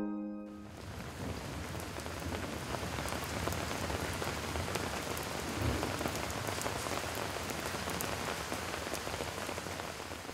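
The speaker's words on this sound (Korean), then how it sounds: "초여름 빗방울이 제법 거세게 몰아치는 오후" Heavy early-summer rain pours steadily onto surfaces, a dense, constant hiss with scattered drips, loud and close throughout with no voices.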